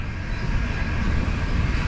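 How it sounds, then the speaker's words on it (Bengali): Kanchan Kanya Express pulling out of New Mal Junction, a loud, dense rumble of the train close by and with no voices. "আর আমাদের নিউ মাল জংশন থেকে ট্রেন ছেড়ে দিল"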